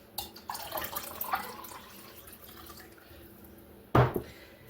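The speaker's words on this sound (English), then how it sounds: "And then to that we're going to add 1 cup of water." A cup of water pours into a crockpot already holding beef broth, a soft trickling splash that fades out, then one louder sudden splash near the end.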